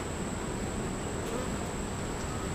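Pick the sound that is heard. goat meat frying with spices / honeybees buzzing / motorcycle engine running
honeybees buzzing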